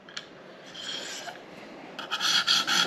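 A knife blade rasps against a stone on a KME sharpener, short gritty strokes close up, the last second louder and harsher than the earlier passes.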